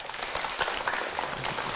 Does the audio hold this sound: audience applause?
yes